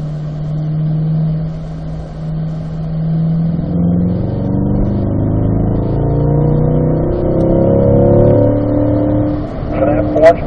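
A Corvette C8 cruises in fourth gear on a track, its engine a steady hum that rises into a climbing, layered drone, with an instructor's voice over it.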